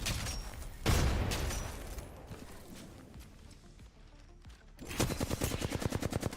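Video game gunfire in a ranked solo shooter match, with a loud opening burst, scattered shots, then a fast, even automatic stream of shots near the end.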